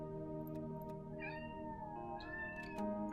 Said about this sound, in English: please excuse my cat, appears to be dying